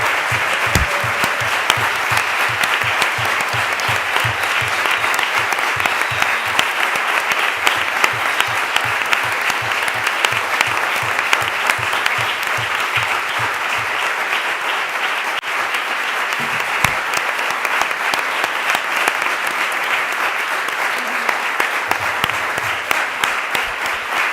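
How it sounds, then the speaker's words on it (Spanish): A crowd at a women film directors' panel keeps up long, loud, continuous applause for over twenty seconds, with a steady rhythmic beat of low thumps, like stamping, running under the clapping for much of it. "vamos a darles un aplauso gigante otra vez"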